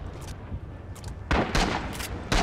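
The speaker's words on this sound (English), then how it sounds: "The shotgun is awesome." A trench shotgun fires three loud, booming blasts in the video game Rising Storm, each shot separated by a short pause, with faint ambient battle noise between them and no talking.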